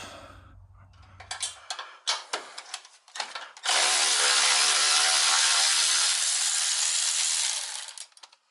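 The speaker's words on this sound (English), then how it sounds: "what I'm going to do is I'm going to remove that bolt" A ratchet works loose a bolt beside a brake line fitting, a run of sharp clicking ratchet strokes followed by a sustained loud mechanical whir that fades at the end.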